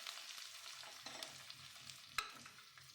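Cumin, green chili, garlic and onion frying in hot oil in a kadhai, a soft continuous sizzle with occasional stirring clinks and one sharper scrape, close and alone without talk.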